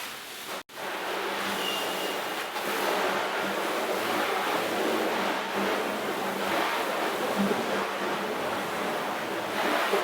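Eley hose sprayer nozzle on its second notch setting, spraying water in a steady, full rushing hiss that runs nearly unbroken, apart from a brief cutoff near the start.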